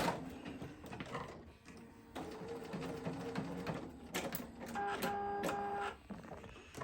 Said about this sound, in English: I'm going to do some back stitching on this just to make sure it's nice and tight and locked in.